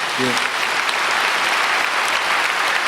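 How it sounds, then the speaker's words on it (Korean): Congregation at a Myungsung Church dawn service breaks into applause, loud continuous clapping filling the room, with a brief voice at the start. "다시 박수 한번 하겠습니다"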